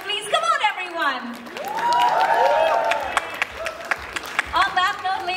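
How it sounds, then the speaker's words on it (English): Audience applause at a G-Shock brand event in Mumbai, a crowd clapping steadily for several seconds while a voice and some cheering carry over the top. "Let's have a bigger round of applause for Mr. Vicky Kaushal, please."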